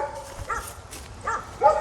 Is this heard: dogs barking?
yes